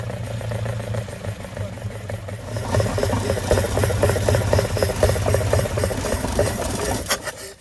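A Mercedes W126 280SE or Alfa Romeo GTV engine restarts after ten years. It settles into a loud, rough, steady idle, close by, with a throbbing low rumble and a rattling edge.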